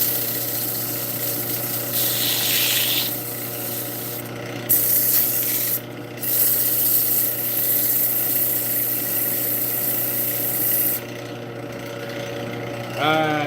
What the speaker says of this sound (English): We're going to clean up this outside edge with a sandpaper